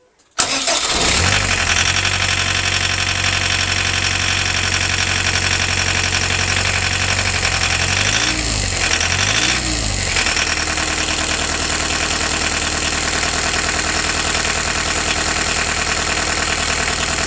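An old Volkswagen T25 diesel van engine turns over, catches and settles into a steady, loud, rough idle that runs on without a break.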